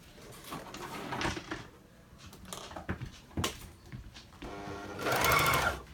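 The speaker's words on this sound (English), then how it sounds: "So I'll take you along to the overlocker and show you what we're going to do here." An overlocker stitches fabric pieces for sweatpants, its motor whirring in short bursts with pauses and handling noises between, ending in a louder, longer run close by.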